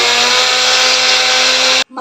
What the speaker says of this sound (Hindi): अब हैंड ब्लेंडर से अच्छी तरह फेंट लेंगे